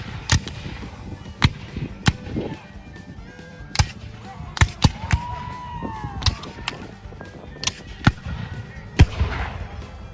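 Repeated sharp cannon booms at a Civil War reenactment go off at irregular intervals, some close and loud, others more distant, over a background murmur with a brief honking call.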